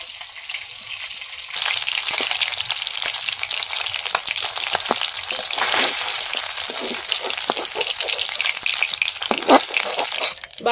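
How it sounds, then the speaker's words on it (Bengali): Small bashpata fish fry in hot oil with a dense, loud crackling sizzle that starts abruptly and carries on steadily, dotted with sharp pops and spits. "বাকি মাছগুলো ভেজে নেব"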